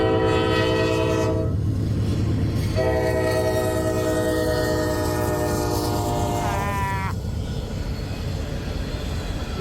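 A loud train horn sounds in long blasts over the steady rumble of a passing empty coal train, with a brief pitch wobble near the end.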